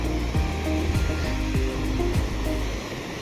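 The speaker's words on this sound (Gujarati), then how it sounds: "હજુ આટલું પાણી જાય છે હજી" River water at Jam Raval pours over a dam, a loud, steady roar of rushing flow heard close and continuous, with no talking.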